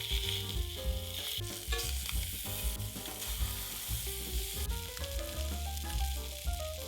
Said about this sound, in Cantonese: 然後用翻同一隻鑊煎埋啲蝦去